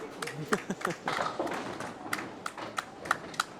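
Scattered applause for a bowler at a candlepin bowling tournament, light irregular claps from a small crowd mixed with an announcer's voice talking over them.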